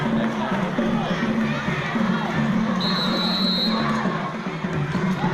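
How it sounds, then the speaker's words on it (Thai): A crowd cheers and shouts continuously at a futsal final penalty shootout, many young voices loud and close, with a whistle-like tone cutting in briefly. "ฟังเสียงเชียร์ดิครับสนุกขนาดไหนครับ"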